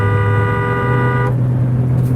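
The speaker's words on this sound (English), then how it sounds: "Honk your horn." A single long, loud car horn blast holds steady for just over a second, then cuts off, leaving a low engine idle humming close by.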